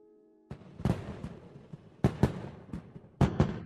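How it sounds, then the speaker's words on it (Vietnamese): A fireworks festival sends up a series of sharp bangs and crackling pops in quick clusters, about seven bursts over a few seconds, heard at moderate distance. "Đại hội pháo hoa đẹp quá."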